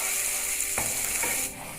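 Mutton and spices get stirred in a pan, with a few scraping, rattling strokes of the spoon over a steady sizzle that drops a little toward the end.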